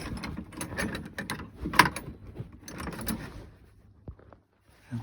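A 3/8 inch wrench turning a battery terminal bolt gives close metallic clicks and scraping that ratchet along for several seconds, then fades to near silence.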